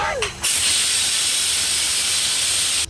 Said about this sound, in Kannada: ಒಂದು ವಿಸಿಲ್ ಬಂದ ತಕ್ಷಣ ವಿಸಿಲ್ ಎತ್ಬಿಡ್ಬೇಕು